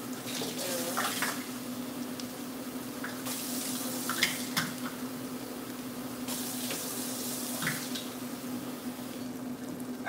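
Tap water running and splashing into a cooking pot for rice in a kitchen, a steady stream with brief louder gushes and interruptions as the pour starts and stops, close and continuous.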